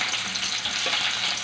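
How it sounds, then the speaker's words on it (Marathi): Onion sizzles in hot oil for a moong bhaji, a close, steady crackling fry with a faint stir midway. "तेल एकदम मस्त तापवून घ्यायचं, एकदम छानपैकी। थोडा कांदा गुलाबी कलरचा करून घ्यायचा थोडा।"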